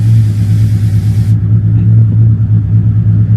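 A 2017 Mazda 6 engine running steadily, a deep, even rumble with a low hum close by, holding constant throughout with no speech.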